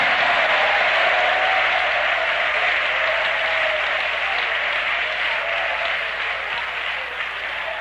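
A church congregation claps hands in praise during a worship service, a loud continuous wash of clapping that holds steady and eases slightly toward the end, with no talking on top.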